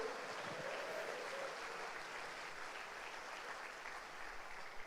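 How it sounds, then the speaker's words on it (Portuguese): A church congregation claps together in a soft, even wash of applause that sounds distant and faint, continuing throughout without a break. "aplauda o Senhor e glorifique-o"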